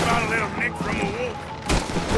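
Gunfire rings out during a Red Dead Redemption II shootout with a sniper above, a sharp burst cracking near the end over a busy bed of game sound and voices.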